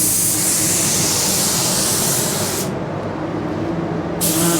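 A paint spray gun hisses steadily while laying a second coat of Ford Ruby Red automotive paint. A continuous close spray cuts out briefly, then resumes near the end.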